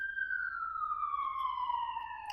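An emergency vehicle siren wails along a busy, noisy Waikiki street in Hawaii. A single clear tone slides steadily downward in pitch over soft background rumble.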